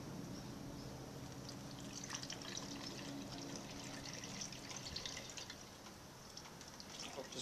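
Hydroponic nutrient solution pours steadily in a soft, trickling stream, quiet and close, with faint splashes toward the end.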